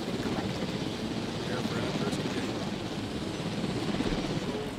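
A helicopter in the Jurassic World Evolution video game gives a steady, moderately quiet rotor and engine drone that stays even throughout.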